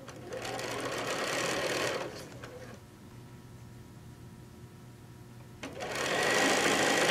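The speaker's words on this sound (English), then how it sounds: "So we're going to stitch down." A sewing machine stitches a quarter-inch quilt seam in two fast whirring bursts, close and loud, separated by a quiet pause of a few seconds.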